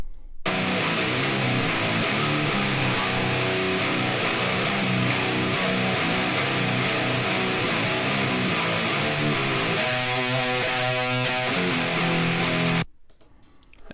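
Heavily distorted metal rhythm guitars recorded through a Neve 1073-style preamp with EQ, chugging densely and loudly without pause for about twelve seconds before cutting off abruptly; no voices.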